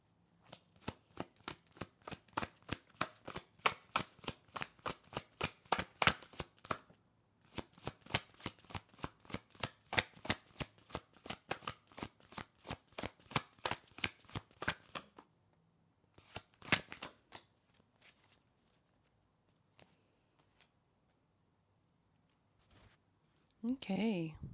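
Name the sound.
shuffling tarot cards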